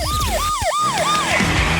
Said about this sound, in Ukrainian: Я увімкнула сирену.